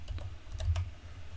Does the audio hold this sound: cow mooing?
no